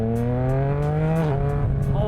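Tuned 2026 Yamaha R9 sport motorcycle running a BAUCE Racing tune, accelerating hard under a loud, steady, high engine note that dips briefly at a gear change and then climbs again.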